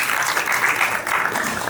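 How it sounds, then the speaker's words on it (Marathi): An audience at a national short film festival award ceremony breaks into a brief burst of applause, with clapping that fills the hall for under two seconds. "टाळ्या वाजवा आपण सगळ्यांनी."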